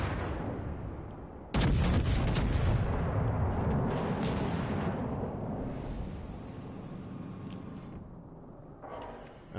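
A warship's secondary guns in a naval battle game fire a loud, sharp volley that cuts in suddenly, then booming reports and rumbling echoes trail off gradually, with a few scattered later shots.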